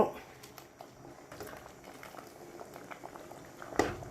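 Kingfish head chili curry boils in a pot, a steady soft bubbling and popping close by, with one sharper clatter near the end.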